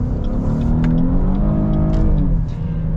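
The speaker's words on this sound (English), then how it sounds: "Now we're gonna show the driving dynamics here with the front wheel drive." A 2022 Chevy Blazer RS in front-wheel drive accelerates hard, its engine a loud, steady rumbling drone whose pitch rises and then dips slightly, heard close up from inside the cabin with no talk.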